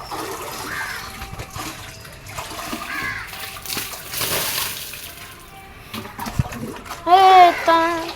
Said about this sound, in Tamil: தண்ணி ஏன்டா ஊற்றுற?